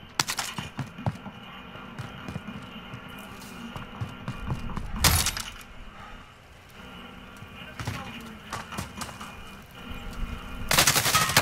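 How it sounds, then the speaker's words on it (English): Gunfire in Call of Duty: Modern Warfare Plunder mode, bursts of rapid shots with sharp loud volleys near the start, middle and end, mixed with game noise. "Getting shot at!"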